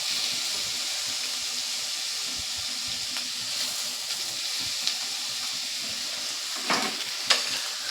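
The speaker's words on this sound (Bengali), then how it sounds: "পেঁয়াজটাও আমি দিয়ে দেবো ভেতরে" Grated onion frying in a pan for a rohu fish head kalia, with a steady sizzle and occasional stirring clinks and scrapes, and no talk.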